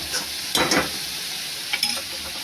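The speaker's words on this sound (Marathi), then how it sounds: "एवढा मसाला भाजून घ्यायचा." Masala fries in oil in a pan for a mushroom masala, with a close, continuous sizzle broken by a couple of brief stirring scrapes, heard alone.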